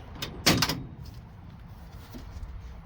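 The roller door of a 1993 Ford Mustang Cobra R prototype slides open with a brief burst of rattling and rolling near the start, then fades into quiet ambient noise.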